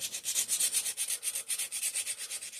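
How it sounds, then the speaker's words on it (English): A round chainsaw file rasps rhythmically against crud and corrosion on a 5hp Briggs and Stratton engine part, with quick, steady back-and-forth strokes, close and fairly faint. "I'm actually going to take a round file to it. This is actually a chainsaw file."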